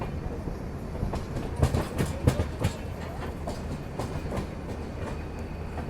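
The Maharashtra Sampark Kranti Express departs Bandra Terminus station, a steady rumbling train noise with rhythmic clickety-clack of wheels over rail joints, heard from on board at moderate volume with no voices.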